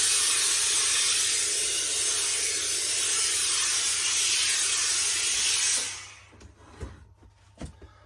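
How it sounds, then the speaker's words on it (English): A steamer hisses onto the inside of a Dunn & Co fur felt hat being restored. The strong, steady hiss lasts about six seconds, then cuts off, followed by a few soft knocks and taps. "Always put some steam on the inside because it does get rid of any smell or odours that's in there."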